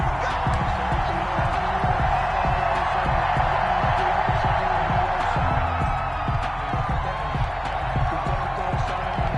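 A video game stadium crowd at a Seattle Seahawks versus Philadelphia Eagles football game makes a steady, dense roar with faint cheers throughout.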